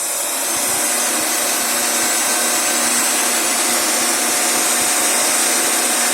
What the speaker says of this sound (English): I usually get a torch or heat gun to dry the surface a little bit